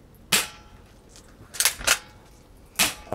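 Four sharp snaps of a BB gun shooting at an apple juice carton, close by and spaced unevenly, with a pair in quick succession in the middle.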